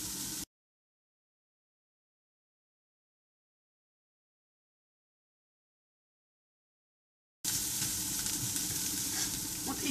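Onions frying in a pan for a fish soup: a short burst of sizzling, then a long silent gap, then steady, close crackling sizzle that continues to the end.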